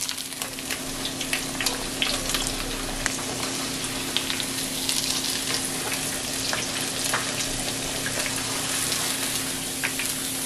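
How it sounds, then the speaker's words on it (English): Pork donkatsu cutlet deep frying in hot oil, a loud, steady bubbling sizzle with dense popping crackles running close and unbroken for the whole stretch. "For the Donkatsu without cheese, you want to fry for 2 minutes on each side or till golden brown."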